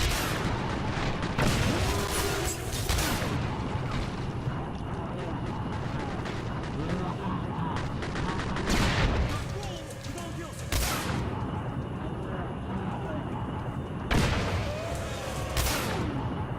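A gun firing in the video game Singularity: several loud, sharp blasts spaced a few seconds apart over a constant rumbling background, each one abrupt and close.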